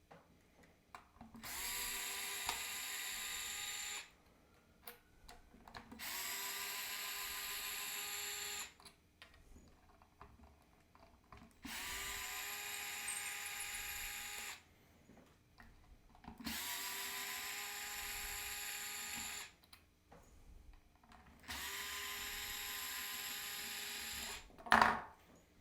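A power driver backs out the mounting screws of a PRS guitar bridge in five steady whirring bursts of a few seconds each, separated by brief pauses, close and clear with no talking.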